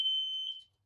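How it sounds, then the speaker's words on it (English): A smoke alarm in an overheated house gives one loud, piercing high electronic tone that holds steady for about half a second and then cuts off, with no talking. "The smoke alarm has detected that there's a fire."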